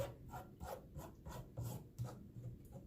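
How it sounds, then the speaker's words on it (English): Acrylic paint being scraped out to the edges of a piece for a cheap paint pour, a close, rhythmic rasping scrape repeated in short strokes about every half second, with no talking. "scrape that ring around what we made around the edge of this piece. We're gonna scrape it to the edges."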